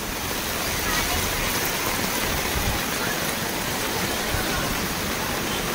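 Record heavy rain pours down in Otur, filling the street with floodwater, a dense, loud, unbroken roar of rain and rushing water close by that holds level throughout.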